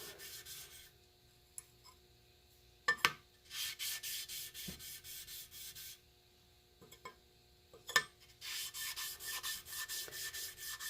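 Rasping rubs clear the burr from the back of a jointer knife blade, several bursts of steady scraping strokes separated by short pauses and a few light clicks, close and alone.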